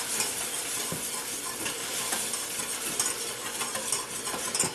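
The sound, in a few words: stirring evaporated milk into mac and cheese sauce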